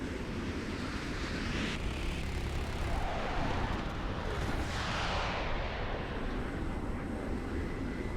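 An F-4F Peace Rhine jet in War Thunder roars with a dense, continuous engine rush whose pitch shifts gradually as the aircraft flies.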